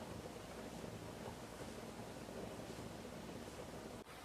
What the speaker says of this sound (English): Now that's a roaring boil.